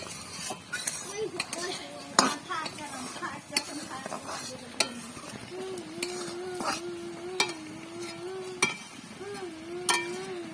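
Ground fried spice mixed into jujube pickle in a pot, cooked the village way; repeated scraping and clinking stir strokes against the pot over a faint sizzle, with some voice underneath.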